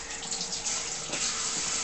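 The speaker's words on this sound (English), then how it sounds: "Got to wash your hands." Tap water runs steadily over hands at a sink, a continuous close splashing hiss with slight shifts as the hands move under the stream.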